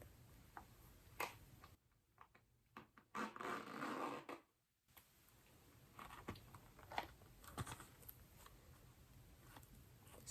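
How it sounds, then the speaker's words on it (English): A zipper on a thin vinyl pouch drawn open and shut in a couple of quick raspy pulls, fairly faint and distant, amid soft handling clicks and rustles. "I'm going to zip it, unzip it"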